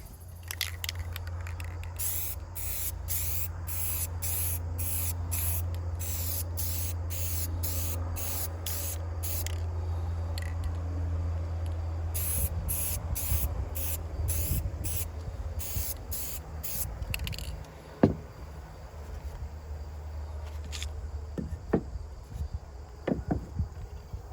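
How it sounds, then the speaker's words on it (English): Short hissing bursts of a spray paint can fire through a stencil onto a bag in quick succession, pause, then continue in another rapid series over a low steady hum. "I just get out my spray can and then I spray paint it"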